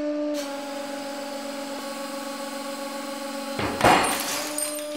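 A coffee-mug-type glass piece under a hydraulic press: a steady mechanical hum from the press runs throughout, then a single sharp crack bursts out near the end as the glass gives way.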